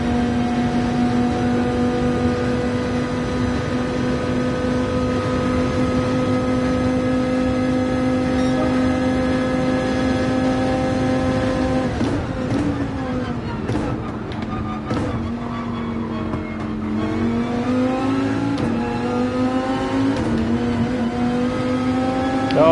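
A Dodge Viper's big American V10 engine in Gran Turismo 7 drones steadily at a high pitch, then rises and falls as it shifts and revs through gear changes, loud and close.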